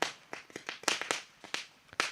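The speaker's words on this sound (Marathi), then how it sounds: "एकदा जोरदार टाळ्या होऊन जाऊ द्या रोशन नारायण बजागे साहेबांसाठी" Applause for a guest at an outdoor sports tournament event in Vandre, heard as a short burst of sharp, uneven handclaps from a small crowd, fairly close and with no talking over it.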